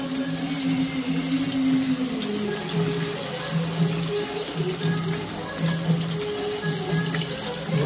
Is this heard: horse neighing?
no